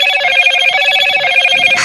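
A mobile phone rings aloud at a high school homecoming pep rally, its steady, repeating electronic ringtone filling the whole moment with no talk over it.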